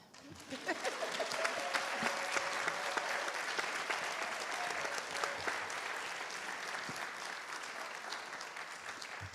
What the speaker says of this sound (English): Okay, now you can applaud.